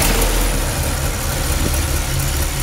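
A 1964 Studebaker Avanti engine idles steadily after its idle mixture has been adjusted, a continuous low rumble with no talk over it.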